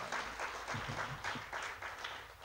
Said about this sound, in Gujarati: અને જોરદાર તાળીઓ